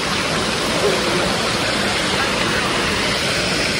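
England's biggest waterfall rushing, a loud, dense, unbroken roar of falling water heard up close, steady from start to finish with no pauses.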